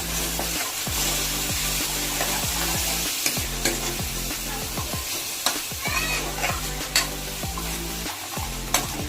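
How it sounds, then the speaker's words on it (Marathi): Masala paste of onion and tomato frying for a crab curry, a dense continuous sizzle with steady rhythmic scraping of a spatula in the pan, close and loud, without talk. "मसाला चांगला फ्राय होऊन दिली"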